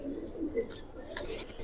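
A single fancy pigeon gives a few soft, low coos in quick succession, faint and brief against a quiet background.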